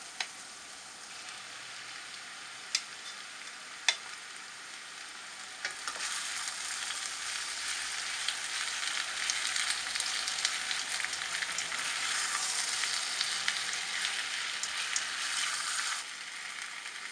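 Chicken and vegetables fry in a pan for a chicken and vegetable quiche: a bright, crackling sizzle that swells louder and denser after a few seconds, steady and close, with a few faint clicks early on.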